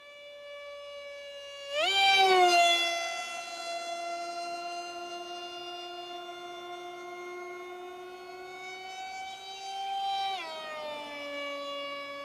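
Racerstar BR2406 2600 kV brushless motor spinning a 6040 propeller at several thousand RPM, a loud steady high-pitched whine that surges up in pitch, holds, then dips and rises again.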